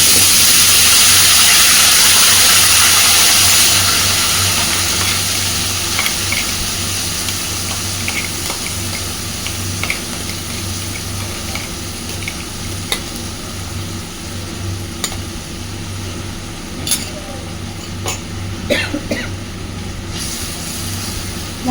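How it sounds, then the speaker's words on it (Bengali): Ground paste of cumin, tomato, green chili and garlic frying in hot oil for a Bengali koi fish curry, a loud steady hiss that fades slightly after a few seconds, with occasional scraping stirs and clicks. "এবার এই বেটে নেওয়া মশলাটা দিয়ে দিচ্ছি"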